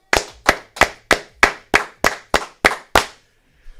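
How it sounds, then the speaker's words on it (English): Audience clapping ten evenly spaced, sharp claps in a steady rhythm, loud and close, with no talking. "10 claps, ready."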